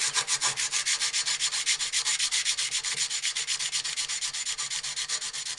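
Hand sanding a knife blade with 220 grit sandpaper around the ricasso and plunge line: quick, even back-and-forth scratchy strokes in a steady rhythm, close up and alone with no talk.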